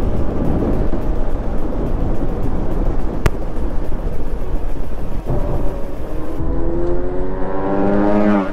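A Daytona motorcycle exhaust roars loud and close under dense broadband rumble, then its revs climb in rising sweeps toward the end.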